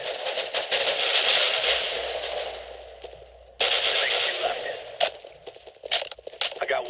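Counter-Strike: Global Offensive gunfire, rapid rattling bursts and sharp cracks, a sustained burst early on, then a sudden loud resumption and scattered shots, with a player talking over it.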